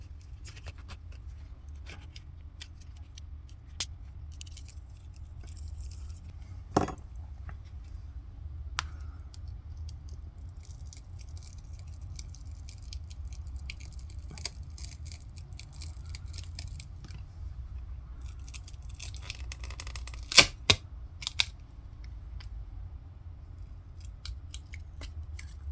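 Scattered scraping clicks and sharp ticks of a pry tool working an LG G8 ThinQ smartphone battery loose from its adhesive, close and intermittent over low background hum, with a few louder snaps near the end.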